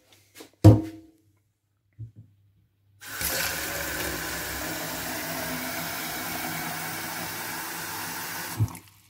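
Water is poured into hydrochloric acid in a container: a few clinks and knocks, then a steady rushing pour runs for about five seconds before stopping with a final knock.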